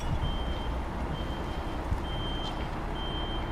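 Truck slowly reversing a trailer into a bay at night, its reversing beeper giving a steady series of thin regular beeps over a low continuous diesel rumble, close by.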